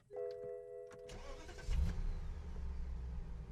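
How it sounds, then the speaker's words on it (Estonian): A few chimes sound, then a BMW V8 engine cranks and fires up, settling into a deep, rumbling idle nearby. "Mõnus V8 hääl."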